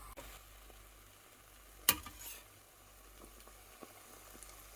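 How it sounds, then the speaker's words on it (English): Hot frying oil makes a faint, steady sizzle and bubble around a wooden spoon dipped in to test the heat, with one sharp clink from the spoon near the start. "you can test whether your oil is ready for frying by dipping a wooden spoon inside, and if it bubbles like this"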